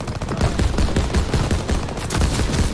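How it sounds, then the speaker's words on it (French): Rapid machine gun fire in the World War II shooter Call of Duty: WWII, a dense, loud, continuous stream of bursts at close range with no talking. "J'ai gardé la mitrailleuse avec moi."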